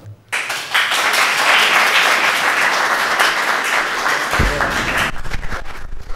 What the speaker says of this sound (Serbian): jednim velikim aplauzom.